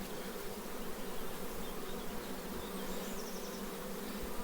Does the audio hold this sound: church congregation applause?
no